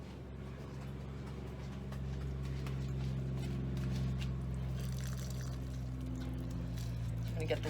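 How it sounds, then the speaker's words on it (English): Water is poured from a can onto a potted peace lily, making a steady trickling splash into the soil that runs throughout, with a person talking over it. "let's give this guy a good watering"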